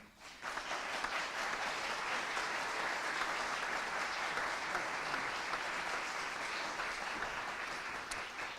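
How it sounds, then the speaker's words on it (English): Applause from the audience at a young chamber musicians competition, a dense, even wash of many hands clapping that holds steady and fairly soft throughout. "Would you please give a warm round of applause to Blair Primus."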